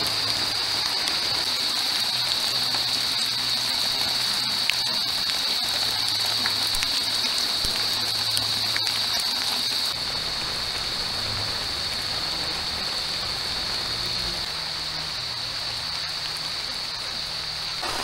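Heavy rain pours down steadily on an overnight solo campsite, a dense continuous hiss of water falling on surfaces with a faint low hum underneath.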